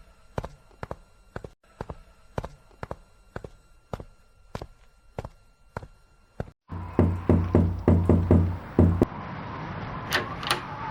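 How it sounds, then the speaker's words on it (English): Sharp knocks land on a door in an even, repeated rhythm, close and distinct, then shift into a louder, more hollow flurry of knocking over a rumbling background before it stops. "Who could be knocking at this hour?"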